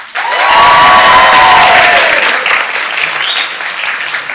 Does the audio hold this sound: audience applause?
yes